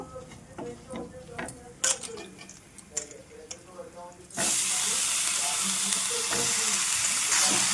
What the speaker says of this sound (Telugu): ఇప్పుడు కట్ చేసి పెట్టుకున్న వంకాయ ముక్కలు వేసేద్దాము